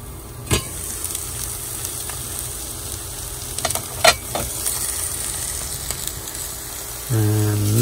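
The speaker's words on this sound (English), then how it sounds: "now I'm cooking some salmon" Salmon frying in a pan at an outdoor camp setting, a steady close sizzle throughout with a few sharp clicks and scrapes, then a loud low engine-like hum swells in near the end.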